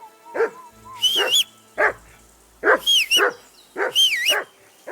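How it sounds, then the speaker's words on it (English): In Kingdom Come Deliverance II, a dog barks insistently and close, bursts of barks coming in pairs alongside high whistling tones over a quiet background. "Can't hear a word anyone's saying."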